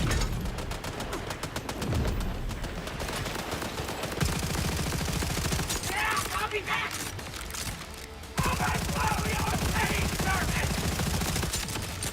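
Rapid automatic gunfire rattles almost nonstop in Borderlands 4, bursts of dense shots layered with game effects and a brief lull before firing resumes loudly, with a voice speaking over parts of it.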